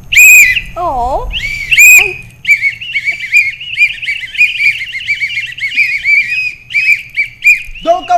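Whistles blown loudly in a noisy morning-show studio setting, shrill repeated blasts with warbling trills in quick bursts, one after another across the clip, with brief voice fragments at the edges.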